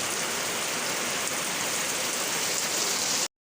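Steady rain falls on an outdoor surface, collected as rainwater for making plant fertilizer; a dense, even hiss continues without a break, then cuts off abruptly near the end.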